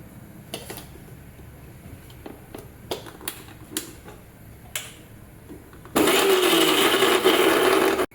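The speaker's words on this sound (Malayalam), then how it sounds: "മിക്സിയുടെ ജാറിലിട്ടൊന്ന് ചതച്ചെടുക്കാം." A kitchen mixer grinder crushing coconut masala paste with a little water, preceded by several sharp clicks and knocks of the jar, then a loud, steady motor whir bursting on for about two seconds.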